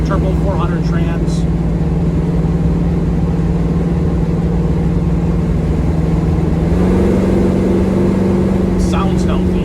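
A 1969 Chevrolet Nova SS396 with a Turbo 400 automatic cruises down the road, its V8 giving a loud, steady low drone that steps up in pitch partway through, while a voice talks over it.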